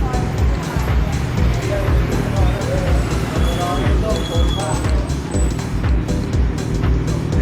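Garbage truck passing by on a street in Pattaya early in the morning, a loud continuous road rumble from nearby traffic with voices talking over it.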